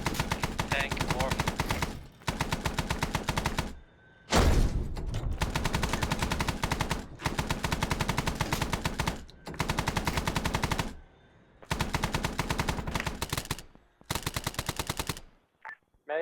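Gunfire and rockets in Arma 3 combat, loud and close: long automatic bursts repeat with short gaps between them, and one heavy blast lands early on.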